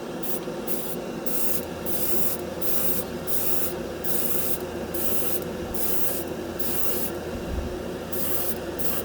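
A cheap Harbor Freight dual action airbrush sprays lacquer-thinned paint in short repeated hissing bursts, each about a half second, with a steady compressor hum underneath.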